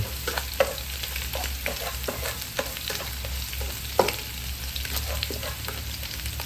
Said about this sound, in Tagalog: Nagigisa tayo ng bawang at sibuyas.